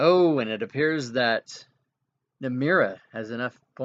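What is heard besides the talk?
None of the usual background noises is heard.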